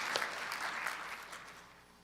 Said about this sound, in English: Give a round of applause to the family and friends and those that have supported these students over time.